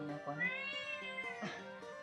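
A cat meows in a long, rising and falling cry, followed by a second shorter meow, close and fairly quiet with faint room noise behind.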